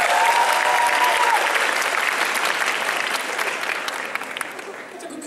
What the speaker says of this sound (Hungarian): Szóval nagy tapsot neki!